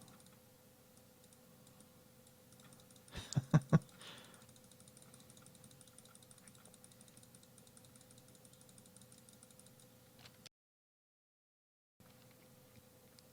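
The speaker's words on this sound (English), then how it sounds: "I want to make sure you can hear all of this clicking" Quick burst of three or four sharp computer mouse clicks close to the microphone, followed by a long stretch of faint, steady ticking clicks under low room hum, with no talking.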